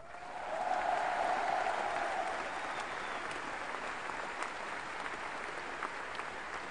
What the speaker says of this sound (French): J'aimerais d'ailleurs que vous applaudissiez très fort mon sonorisateur.